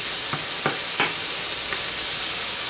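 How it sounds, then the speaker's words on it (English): Ground beef browning in a pan, a loud constant sizzle with four soft scraping stirs spaced under half a second apart, then an unbroken hiss. "See, the hamburger is already browning."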